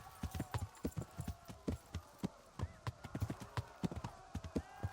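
Horse hooves clip-clop at a steady trot in the medieval video game Kingdom Come Deliverance, a close, regular rhythm of sharp hoof strikes with a low ambient hum beneath.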